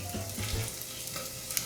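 Mushrooms fry in oil in a pan, giving a continuous close sizzle with a few soft stirring scrapes and low knocks near the start.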